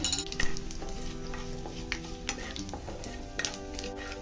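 Whole cumin and fennel seeds sizzle and crackle in hot oil in a pan, a continuous close frying hiss broken by scattered pops and light metallic stirring clinks, with no talk.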